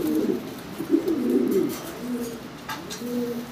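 Several pigeons coo nearby in low, rolling, overlapping calls, steady and fairly loud, with faint clicks in the background.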